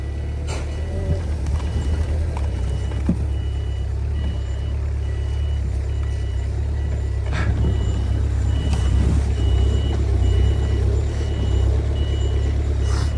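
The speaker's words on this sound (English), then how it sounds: "we're driving some pretty deep snow to get this one out" A Wolf Mini 780H Chinese wheel loader drives through deep snow, its diesel engine a steady low rumble throughout with faint mechanical rattles and an intermittent high beeping on top.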